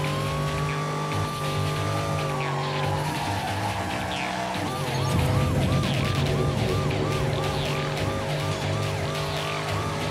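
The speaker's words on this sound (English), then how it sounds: "This cop car looks super fun to drive." A police car siren wails in the racing game Ridge Racer Unbounded, first a long steady tone, then a rapid repeating yelp, over loud engine roar and tyre skids.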